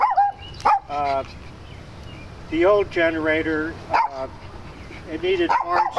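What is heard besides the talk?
dog barking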